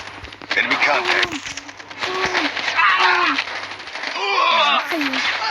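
Gunfire in a shooting video game comes as rapid bursts of crackling shots under excited talking, loud and near, continuing through most of the moment.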